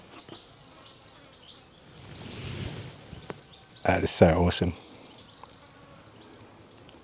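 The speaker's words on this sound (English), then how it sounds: "Just listen to the sounds in the forest here of the birds." Birds chirp and sing in high, repeated calls outdoors, with a brief burst of nearby talking in the middle.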